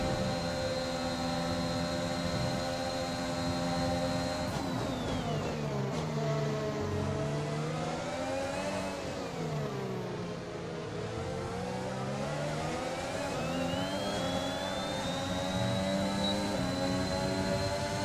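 A Formula 1 car engine in F1 2021 at Silverstone wails continuously at high pitch, dropping as the car slows through a corner and then climbing again as it accelerates, loud and close the whole time.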